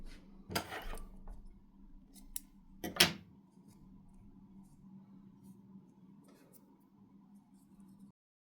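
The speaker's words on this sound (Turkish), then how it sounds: "Bir zincir yaparak ipi keselim." Scissors snipping crochet yarn after a chain stitch on a daisy hair clip: two short, crisp snips a few seconds apart, close by, over a faint steady room hum.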